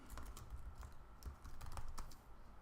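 Rapid typing on a computer keyboard, close and moderately loud, with uneven bursts of key clicks and thuds and no voices.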